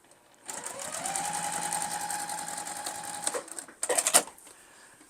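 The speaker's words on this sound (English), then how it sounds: "the interfacing kind of makes it easier to turn this as you sew" A sewing machine stitches fabric and interfacing for a book sleeve, running in one steady whirring burst for about three seconds, then stopping for a pause and giving a couple of short, sharp bursts.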